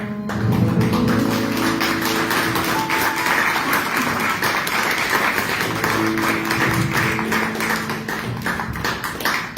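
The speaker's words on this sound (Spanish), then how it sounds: "Dale un aplauso a Cristo" A church congregation in Monterrey, Mexico claps together at the close of a worship service, a steady, dense wash of hands sustained for the whole stretch, with organ or keyboard tones sounding underneath.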